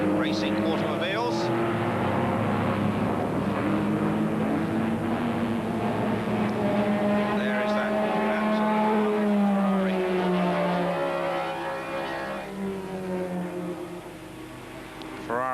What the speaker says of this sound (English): John Muir driving the PRA, English Racing Automobiles.